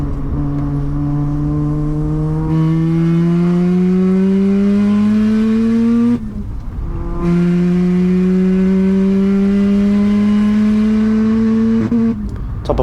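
A 400 HP 13B rotary engine in a Mazda RX-7 on a race lap, heard from inside the car, holds a loud, buzzing climb in pitch through two long pulls, each ended by an abrupt gear change.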